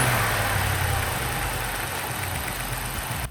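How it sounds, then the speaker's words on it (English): A misfiring BMW V8 idles steadily and close by, a continuous uneven rumble with a rough low-end pulse that runs alone until it cuts off at the very end. "the engine is still misfiring"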